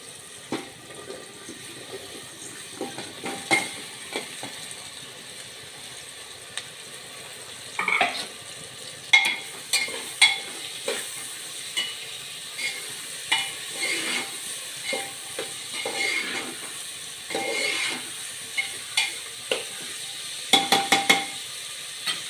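Vegetables sautéing in oil with turmeric and red chili for Kathiyawadi khichdi in a village kitchen make a low, steady sizzle. Repeated scraping stirs and utensil knocks recur throughout, with livelier clattering bursts toward the end.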